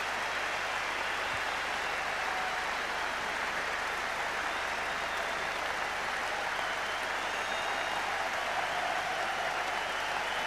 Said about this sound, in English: here he is, warm appreciation from this crowd